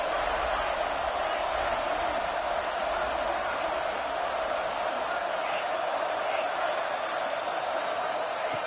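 Football crowd in a stadium roaring steadily on a third down during a college playoff game between North Carolina and Oregon, a dense, continuous wash of cheering with no gaps.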